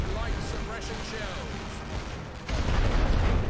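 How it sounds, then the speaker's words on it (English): Artillery barrage in The Great War: Western Front, a continuous rumble of distant booms and explosions that swells louder toward the end, with a voice talking over it. "I'm just going to drop more artillery over here."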